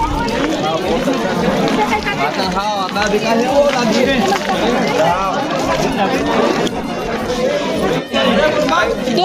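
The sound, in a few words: crowd chatter at a polling station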